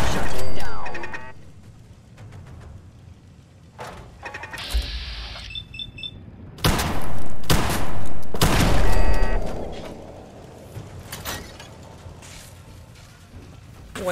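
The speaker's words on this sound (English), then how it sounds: "I'm the only one shooting." Gunfire from the video game Fallout 4: several loud, sharp broadband bursts with booming tails arrive in uneven clusters, separated by quieter stretches of game ambience and mechanical noises.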